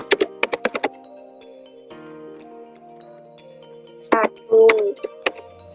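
Rapid keystrokes on a computer keyboard while entering a function in Maple, a quick burst of crisp clicks, then a pause and a few more taps with a firmer key press, close and distinct over faint background tones.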